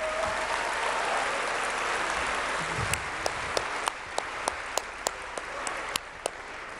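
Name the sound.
audience applause for the competition winners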